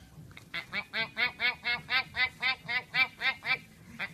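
A man mimics a duck, giving a steady string of about a dozen nasal quacks in even rhythm, close and distinct.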